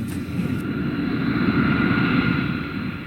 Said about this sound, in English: making the first takeoff on this airplane for the first time